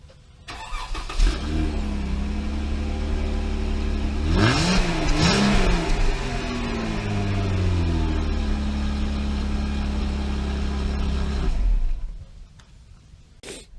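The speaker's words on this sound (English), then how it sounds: "Now let's see what the stock exhaust sounds like." A Jeep JK engine with stock exhaust starts and revs steadily for several seconds, rising and falling in pitch with a couple of sharper throttle blips, then shuts off.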